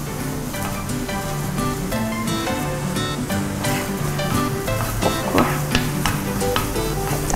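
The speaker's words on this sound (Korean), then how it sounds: "프라이팬에 식용유를 약간 두르고 더덕부터 볶겠습니다" Deodeok root being stir-fried in a little cooking oil in a frying pan, a steady close sizzle with stirring scrapes, mixed with a continuous musical background throughout.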